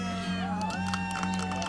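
Turkish supporters cheer and whoop from behind at an outdoor para-archery individual final, a mix of shouts and sustained tones with music audible underneath.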